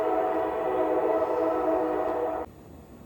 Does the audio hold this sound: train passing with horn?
yes